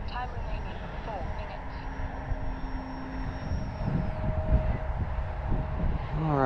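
E-flite Valiant RC airplane engine droning steadily nearby as the model takes off from grass, its pitch sliding as it passes, with wind noise.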